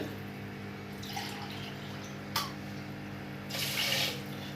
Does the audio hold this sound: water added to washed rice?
yes